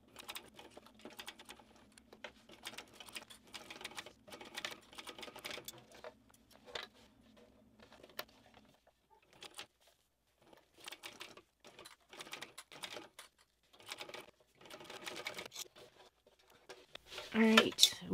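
Sewing machine stitching a bag lining seam with 3.5 mm backstitching at each end, a steady low motor hum and needle clatter running for about nine seconds, then brief bursts later amid handling noise and quiet talk.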